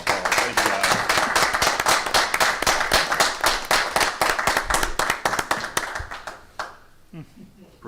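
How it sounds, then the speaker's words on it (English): A room at a school board meeting breaks into applause for thanked community members, a steady burst of close, crisp hand claps that tapers off over the last couple of seconds as a few scattered claps and faint voices remain. "let me give them a hand round of applause"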